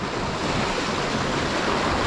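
Large sea waves at a sheltered fishing spot under strong northeast wind make a continuous loud roar of surf, with wind noise blended through the steady wash.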